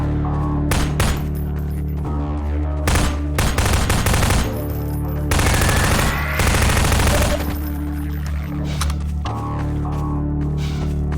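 Automatic and single gunfire from Combine soldiers in Half-Life 2 during a highway fight with snipers, loud dense bursts and rattling volleys filling the whole stretch with brief gaps.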